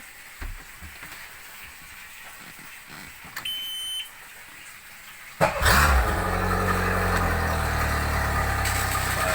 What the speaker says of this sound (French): Nous allons démarrer le moteur.